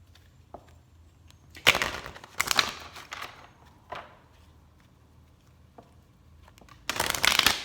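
Oracle cards being shuffled by hand, several bursts of riffling and flicking with short pauses between, close and clear with no talking.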